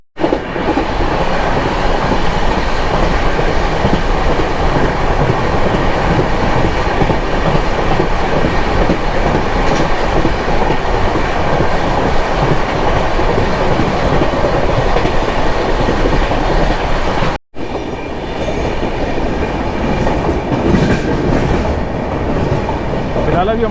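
The Chennai Express from Mumbai LTT to Chennai Central running on the rails near Neral Junction, a loud, continuous rumble and rattle of wheels and carriages heard up close, briefly cutting out before resuming slightly quieter.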